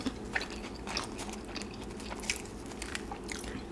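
Close-up crunchy bites and chewing of a Papa John's Parmesan-crusted Papadia flatbread, crisp crackles repeating irregularly against a quiet background.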